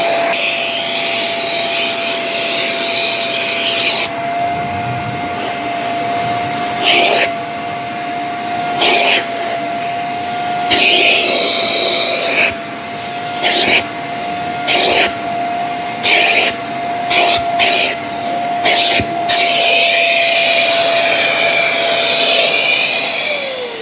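A Shark Carpet Xpert Hair Pro EX30 carpet cleaner running upright in StainStriker mode, a loud steady motor whine and suction roar with a sustained tone, interrupted by repeated short bursts of spraying or surging air.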